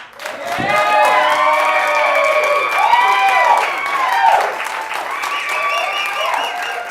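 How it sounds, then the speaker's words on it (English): Loud, sustained applause from a comedy club crowd, filling the whole stretch, with some cheering and a voice carrying over the clapping. "Give a large round of applause to Robert L. Hines."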